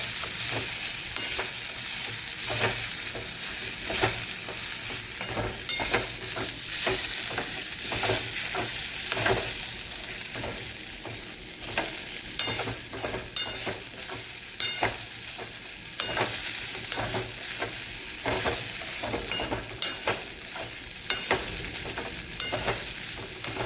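Green coconut halwa is stirred steadily in a pan over a low gas flame, with continuous close sizzling and rapid repeated scraping strokes that run without pause.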